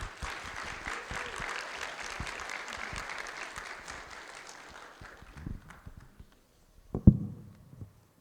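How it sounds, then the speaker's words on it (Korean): A church congregation applauds steadily, the clapping fading out over several seconds, followed by a few scattered thumps and a brief sharp knock. "목사님 올라오시니 우리 박수로 환영하겠습니다."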